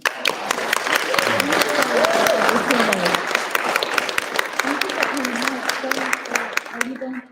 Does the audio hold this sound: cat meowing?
no